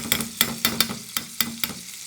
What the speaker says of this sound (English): The sizzling sound, the chiss sound.